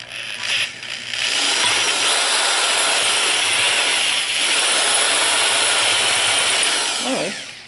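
Power drill with a bit boring into cast iron during a crack repair, a steady loud grinding whine running almost continuously with brief starts and a winding-down tail at the end.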